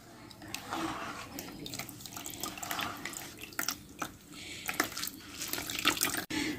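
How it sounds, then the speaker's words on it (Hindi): Water is squeezed by hand out of boiled potatoes, giving a steady wet trickle and splashing with irregular drips, close and moderately loud, with no talking. "आलूओं को मैंने इस तरह निचोड़ लिया है।"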